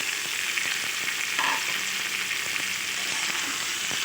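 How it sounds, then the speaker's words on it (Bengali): Squash and potatoes fry with spices in a pan, a steady loud close sizzle with soft scrapes of stirring and no talk. "এবার মশলার সাথে কোয়াশ আলুগুলো খুব ভালোভাবে মিশিয়ে নেব"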